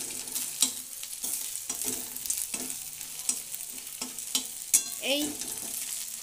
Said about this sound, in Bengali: 8-10 সেকেন্ড মতন এটাকে একটু ভেজে নেবো।